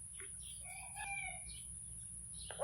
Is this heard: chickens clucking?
yes